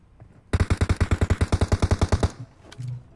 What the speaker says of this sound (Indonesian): Aku ada yang nembak sih dari situ